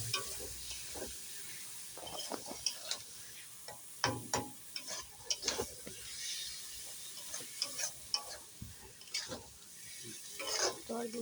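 Food being stirred in a pan during home cooking, irregular soft scrapes and clinks over a faint sizzle, fairly quiet and close, with brief murmuring in the background.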